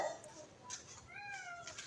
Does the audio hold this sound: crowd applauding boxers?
no